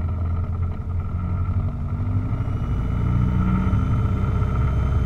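A light aircraft engine revs up to about 2,000 RPM before a crosswind takeoff at Lubbock International Airport, a steady loud propeller drone that holds and swells slightly toward the end with no talk over it.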